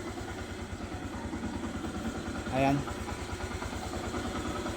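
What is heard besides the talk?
motorcycle engine warming up, idling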